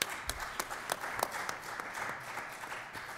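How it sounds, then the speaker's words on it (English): Audience applause at a law school panel on litigation finance, a steady spread of clapping hands filling the room for about three seconds, moderately loud with scattered sharper claps. "I think we should all thank Robert with a nice round of applause."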